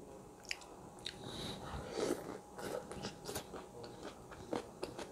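Asinan Bogor with peanuts being eaten close up, a series of crisp, irregular crunching bites and chewing, moderately loud with no talk.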